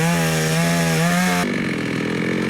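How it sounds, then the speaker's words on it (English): A chainsaw cuts through timber to clear a blocked off-road track in the Valley of 1000 Hills, its loud, steady whine dropping in pitch midway as the blade bites into the wood. "busy with a chainsaw clearing a path"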